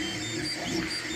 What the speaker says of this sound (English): right now we are actually printing out the front panel, and this is in glow-in-the-dark PLA